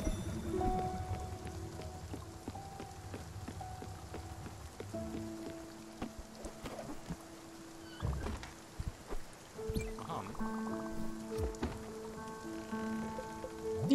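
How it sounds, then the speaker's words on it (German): Steady patter of rain in the Spiritfarer video game, a soft continuous wash under scattered tonal game sounds and faint clunks, with no voices. "Es regnet."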